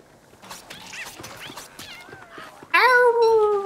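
Small kitten-like creatures in the Don't Starve Shipwrecked video game give several soft chirping meows, followed near the end by one louder, drawn-out meow, with no speech over them.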